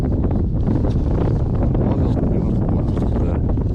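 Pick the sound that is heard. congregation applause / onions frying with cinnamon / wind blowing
wind blowing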